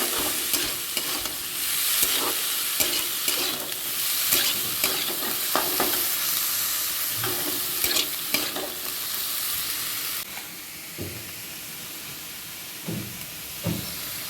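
Leafy greens (note/amaranth leaves) fry in a hot pan while being stirred, giving a steady loud sizzle broken by repeated scraping strokes; the hiss drops off partway through, leaving quieter intermittent scrapes.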